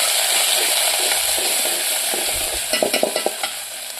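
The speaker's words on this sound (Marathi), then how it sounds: "बघा, तेल चांगलं गरम झालेलं आहे. त्यामध्ये अद्रक लसूणचा पेस्ट टाकते." Ginger garlic paste hits hot oil in a pan over a wood-fired stove, sizzling steadily up close, with a burst of stirring and scraping toward the end.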